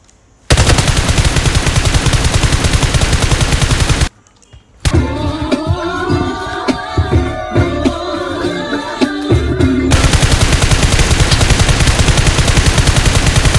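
Rapid bursts of automatic gunfire in PUBG, loud and continuous, broken by a short pause and a stretch of game sound effects before the firing resumes.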